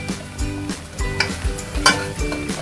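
Coriander powder, red chili powder, turmeric and garam masala sauté in a pan with a loud, close sizzle, broken by repeated scraping stirs and light utensil knocks, with no speech.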